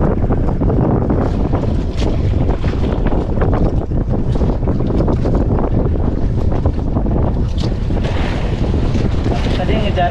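Strong westerly wind buffets a small fishing boat at sea, a loud constant rush of gusts across the microphone mixed with sloshing water and engine rumble, close and unbroken.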